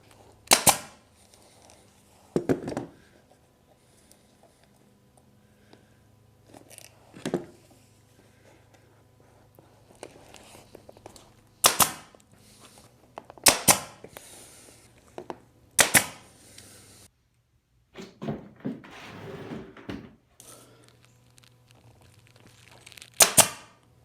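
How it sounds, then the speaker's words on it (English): Sharp staple-gun shots tack rattan cane onto a sofa frame during a restoration, about eight or nine loud, isolated clacks spread unevenly with quiet handling and shuffling in between. "put my stapler on the inside, and then I can tack it in place"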